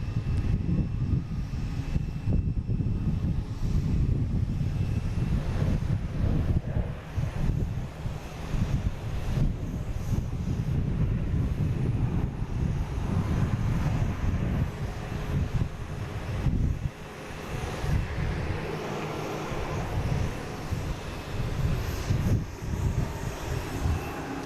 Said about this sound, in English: Here's United coming in from San Francisco in 737 MAX 9